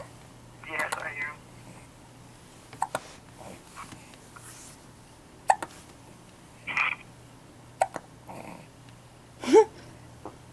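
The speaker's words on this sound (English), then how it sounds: "I like his hiccups." Small, sharp baby hiccups pop out every couple of seconds in a quiet room, with soft murmuring and faint noises between them.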